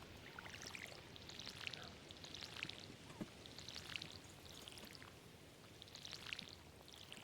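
A watering can sprinkles crops in Stardew Valley, making soft, faint splashing pours that repeat in regular short bursts about every second or so, alone without speech.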